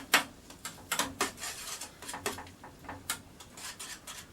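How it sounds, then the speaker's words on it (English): A utensil stirs a scramble in a pan, making a series of close, sharp scrapes and clinks in an irregular rhythm, each brief and fairly quiet, with no talk. "Kind of stir some of that into the scramble."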